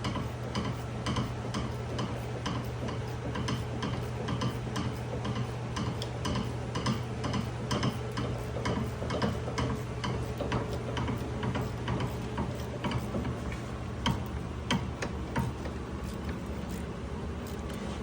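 A ratcheting wrench clicks steadily and rapidly while tightening a strut on a 2001-2012 Ford Escape or Mercury Mariner, an even run of close, crisp mechanical ticks with no talking.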